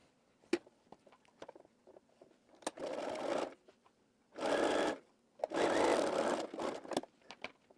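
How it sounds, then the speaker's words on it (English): A sewing machine stitches the shoulder seams of a wrap dress lining in three steady whirring runs, close and clear, separated by clicks and handling noises of fabric being adjusted. "Now I'll sew my shoulder seams of my lining."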